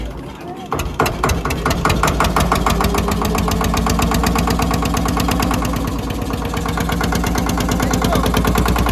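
A river ferry boat's engine running with a steady, rapid low chugging throb, loud and close throughout, after a brief start-up.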